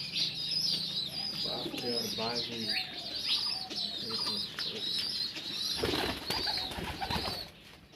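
Pigeons, including a female, coo and call near at hand alongside bird chirps, with a brief burst of wing flapping and some human voices in the background.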